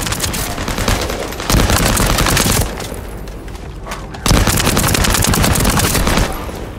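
Sustained automatic weapon fire in The First Descendant roars in loud, dense bursts, pausing once for a quieter stretch before another heavy volley erupts and continues near and close.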